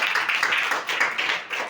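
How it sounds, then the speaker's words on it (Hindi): Children in a primary classroom clap for a classmate during a maths lesson on triangles, a steady patter of many hands lasting under two seconds at moderate level. "तालियां करिए इनके लिए जोरदार।"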